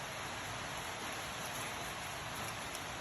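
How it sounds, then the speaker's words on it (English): Steady, dense rain falling outside, a continuous even hiss with no breaks, fairly close and without talk. "I hope that rain isn't a bother."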